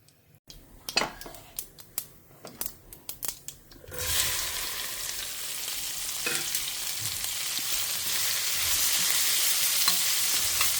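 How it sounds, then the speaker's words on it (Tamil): Okra sautéing in oil in a pan: a few seconds of sharp utensil clicks and scrapes, then a loud, steady, close sizzle that holds to the end. "கொஞ்ச நேரம் இது நல்லா சுருளில் வதங்கட்டும்."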